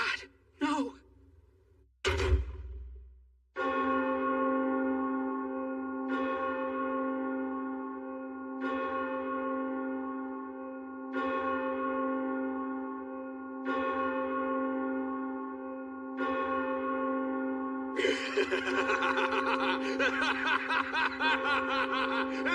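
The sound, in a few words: church bells ringing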